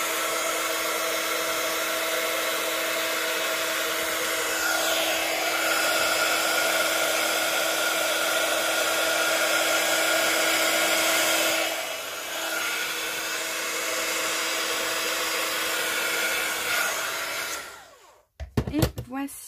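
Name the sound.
heat tool melting embossing powder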